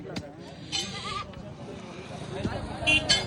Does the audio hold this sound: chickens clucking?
no